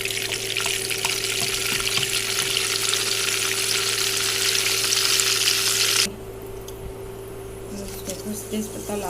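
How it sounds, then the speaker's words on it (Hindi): Butter melting into hot oil in a pan for pav bhaji, a loud, close, continuous sizzle that cuts off abruptly partway through, leaving a quieter background hum. "सबसे पहले तेल, इसमें थोड़ी सी बटर डालते हैं"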